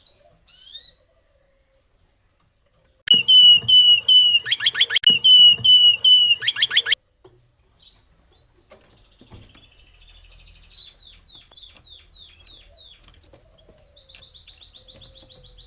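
Pet canaries kept for breeding burst into loud, dense chirping and trilling song for several seconds, followed by softer, scattered tweets and calls at close range with no talking.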